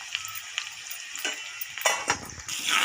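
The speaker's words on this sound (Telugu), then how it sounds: "ఇవన్నీ కొంచెం రంగు మారే వరకు వేయించుకోండి." Garlic and onions with a little turmeric frying in a pan for a fenugreek tomato curry, a steady close sizzle with a few brief stirring scrapes and spatters, no talking.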